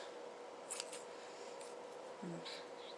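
Sharp yarn scissors cutting yarn for a crocheted beanie give a few faint, quick snips against a quiet background hiss, no one speaking.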